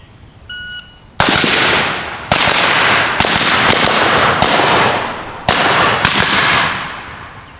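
Rifle shots fired in quick succession during a static shooting drill, seven loud sharp cracks with ringing decay; a few short electronic beeps come first.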